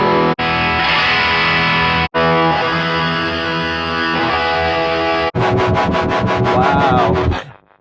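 Electric guitar run through a Neural DSP John Mayer amp plugin with heavy effects, loud and continuous with sustained, processed chords broken by brief gaps, ending in a pulsing, tremolo-like warble that fades out.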